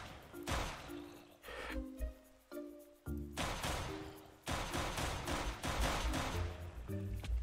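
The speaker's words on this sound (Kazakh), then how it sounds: "зомби полицияларды ату керек болады" Rapid bursts of automatic gunfire blaze through a Minecraft zombie fight as players shoot at zombie police, with dense volleys rattling on and off loudly and brief gaps between the bursts.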